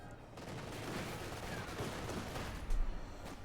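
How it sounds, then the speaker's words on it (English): Machine gun and small-arms fire in the wartime strategy game Company of Heroes 2, a dense rattling fusillade at moderate distance, steady throughout with a louder burst near the end. "Another machine gun bunker going up here for Steiner."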